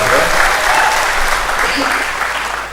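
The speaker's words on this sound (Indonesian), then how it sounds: "Tepuk tangan dulu dong untuk teman-teman Solo ya" Audience in Solo applauding at an Enagic business seminar, a dense steady wash of clapping from a large crowd that stays loud and slowly eases off, with no talk over it.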